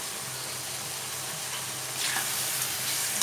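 Tomatoes and onions sauté in oil for a Sankara fish gravy, giving a steady close sizzle. Partway through, a brighter, louder burst of hissing and stirring swells up and continues to the end, with no voices.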